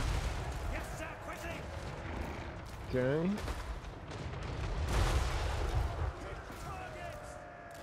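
Cannon fire in a Total War: Warhammer III battle against dwarfs, with booming shots and rumbling gunfire running throughout under a voice speaking in Slovak.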